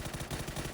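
Rapid automatic gunfire in PUBG, a quick rattling burst of evenly spaced shots, fairly faint and brief.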